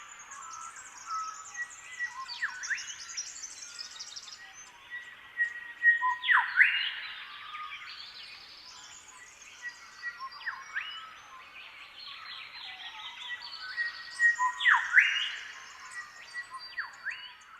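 Thrushes calling outdoors, repeating the same bright whistled calls again and again, some nearby and louder, others fainter, with no talking over them.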